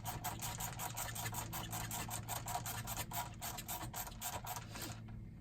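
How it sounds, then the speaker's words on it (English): A ratcheting screwdriver snugs up bolts during a spark plug job on a Yamaha 242 Limited S boat, giving a fast, steady run of close mechanical clicks that stops abruptly near the end. "I got this nice ratcheting screwdriver."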